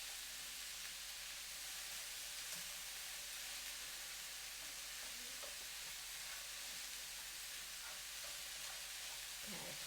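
Onions and peppers sauté in a hot pan with a steady, soft sizzling hiss that runs without a break, and a few faint stirring clicks sit underneath.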